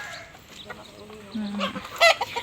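Close, fairly quiet clucking from a hen with newly hatched chicks, brief calls coming near the end, with a voice speaking faintly underneath.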